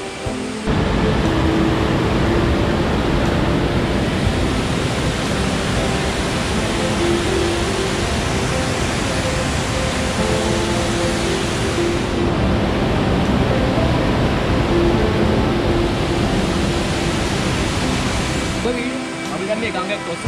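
Rushing water of a waterfall in the Sri Pada (Adam's Peak) forest area, a steady loud broadband roar that continues unbroken for the whole stretch before briefly easing near the end.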